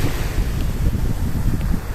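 Strong wind and rough waves buffet a fishpen at sea in bad weather, a loud, continuous rumbling roar dominated by heavy wind noise on the microphone.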